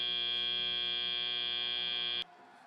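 A loud, steady electronic buzzer drones at the end of a FIRST robotics competition match, holding for about two seconds before cutting off abruptly into quiet arena ambience.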